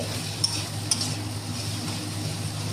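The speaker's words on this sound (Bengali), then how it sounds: "কুচি করে রাখা টমেটো দিয়ে দিচ্ছি, সামান্য নুন দিয়ে দিচ্ছি, নুন দিয়ে নাড়াচাড়া করে দিচ্ছি।" Chopped tomatoes with a little salt being stirred in a pan, a soft steady scraping with faint sizzling and two brief utensil clinks against the metal, close and alone without talk.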